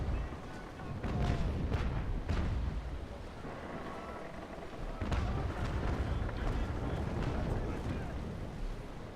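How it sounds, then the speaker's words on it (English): Naval battle in a video game as several sailing frigates fire cannon broadsides, a dense rolling series of heavy booms and rumbling blasts over constant sea and battle noise, with a voice talking over it. "We have 2 Essexes and 1 Indefatigable and 1 Cerberus firing at him"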